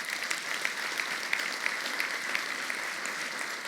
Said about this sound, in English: give him a round of applause if you don't mind.